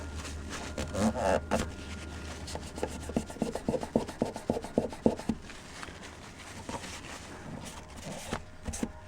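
Hand sanding strips paint down to bare metal on an RX200 plate, with rhythmic raspy back-and-forth rubbing strokes that are quick in the middle and sparser at the start and end, close and moderately loud.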